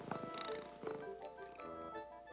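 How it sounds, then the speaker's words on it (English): A cat named Chance purring softly and steadily, a gentle rhythmic rumble in quiet surroundings. "Soon Chance began to purr"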